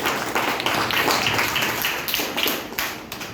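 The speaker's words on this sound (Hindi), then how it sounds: "जबरदस्त ताली।" Audience applause at an indoor health awareness program, a burst of dense clapping from a crowd, loud and sustained for a few seconds before thinning out toward the end.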